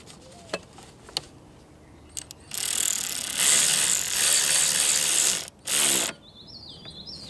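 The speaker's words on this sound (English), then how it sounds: "and now we have to retighten that T30" A ratchet tightens a T30 bolt on the inlet pipe of a Mk7 VW GTI. A few faint clicks come first, then a long, loud stretch of rapid clicking, a short pause and one more brief burst.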